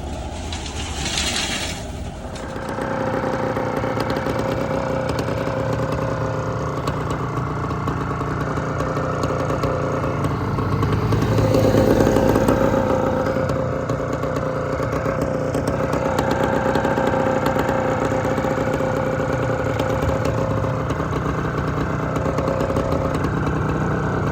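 A skid steer engine runs steadily in a weld shop, a continuous mid-low idle rumble that swells slightly around the middle and holds on throughout, with no voices.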